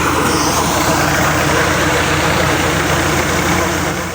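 A farm tractor engine runs steadily at idle in a village field at harvest time, a loud, continuous low rumble close to the microphone with no break for the full length.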